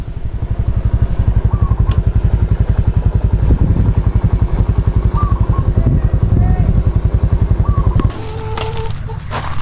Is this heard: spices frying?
no